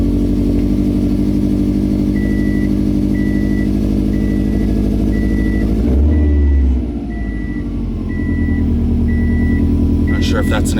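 A Subaru WRX tuned to about 500 horsepower idles with a possible exhaust leak, a steady, loud engine drone under a regular repeating beep, the tone dipping briefly midway.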